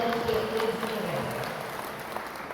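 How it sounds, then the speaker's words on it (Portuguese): A crowd at a bacamarte symposium in Caruaru, Pernambuco applauds for the women of the bacamarte battalion, with dense, sustained clapping from many hands filling a hall and holding steady throughout. "eu queria aqui uma salva de palmas para as mulheres que levantam o Bacamarte"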